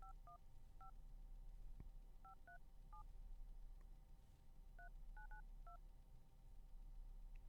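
A telephone number is dialed on a keypad, a series of short, evenly spaced touch-tone beeps in two quick clusters, faint over a steady low hum.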